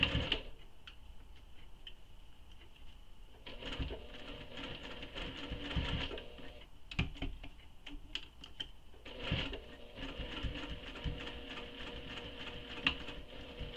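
A sewing machine stitches a fabric wristlet, giving quiet, steady mechanical ticking in runs broken by short stops and faint handling noises.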